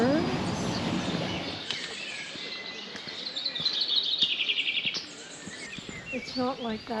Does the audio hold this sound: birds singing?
yes